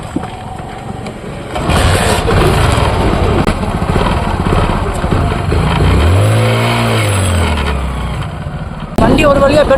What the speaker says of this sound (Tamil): வண்டி ஒரு வழியா பெட்ரோல் போட்டு ஸ்டார்ட் பண்ணியாச்சு.